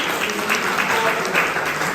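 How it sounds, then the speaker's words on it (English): An audience claps for all the participants at the end of an event, a continuous even wash of applause without voices. "round of applause for all the participants today"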